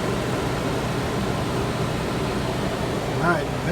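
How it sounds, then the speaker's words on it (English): A bedroom air conditioner running on a Champion 3400-watt dual-fuel inverter generator gives a steady, broad hum and airflow rush throughout, with a faint voice briefly near the end. "the bedroom air conditioner is on"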